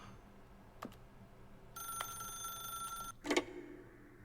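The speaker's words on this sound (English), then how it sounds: "If you can truly place your faith in another, then pick up the phone." A telephone rings in the video game The Stanley Parable, a brief electronic bell tone lasting about a second, with a couple of faint clicks before it and a louder knock just after.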